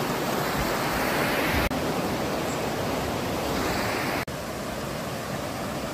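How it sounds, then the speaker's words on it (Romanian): Cascada 7 izvoare, a waterfall in an unpolluted mountain area, pours with a constant, close, full roar of rushing water, briefly interrupted by two short cuts, with no voices over it. "Am ajuns la cascada 7 izvoare."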